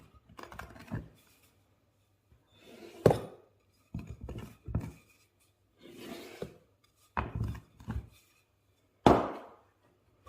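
A fork pricking air holes into lemon tart dough in a pie tin, giving a series of close, distinct taps and soft knocks spaced irregularly with short quiet gaps between.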